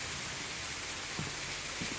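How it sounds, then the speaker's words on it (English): Heavy rain falling steadily in Thurmond, West Virginia, a dense, constant hiss with a few soft low thumps, fairly quiet and with no voices. "it's just heavy rain that made the rumble"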